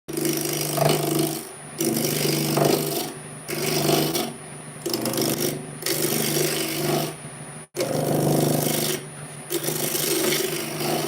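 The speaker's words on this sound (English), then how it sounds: "Let the lathe come up to speed." Wood lathe turning a piece of green hawthorn: a steady motor hum under a continuous rasping cut, pulsing in and out as the tool meets the wood, with one brief dropout partway through.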